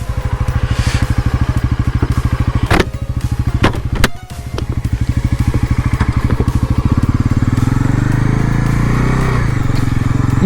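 A motorcycle engine idles loud and close after a ride through a village waterfall, its exhaust thumping in a fast, even rhythm with a few sharp clunks midway before settling into a steady run.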